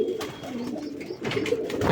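Young pigeon squabs coo close by in short, soft, throaty bursts, a few calls rising in quick succession over about two seconds, with no voices.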